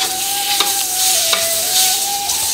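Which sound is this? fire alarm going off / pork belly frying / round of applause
pork belly frying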